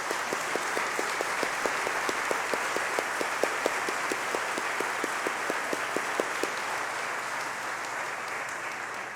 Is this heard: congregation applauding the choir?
yes